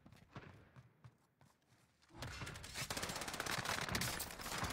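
Gunfire erupts in a video game as a player is shot at from a rooftop, with sparse shots at first and then a loud, sustained rattle of rapid fire.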